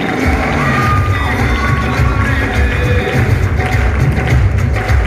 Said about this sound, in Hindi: तालियां चाहिए